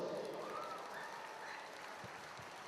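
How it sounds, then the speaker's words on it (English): Faint, distant applause from a stadium crowd at a charity moment for Andy at Goodison Park, a steady low wash of clapping with murmuring voices underneath. "give Andy a big round of applause"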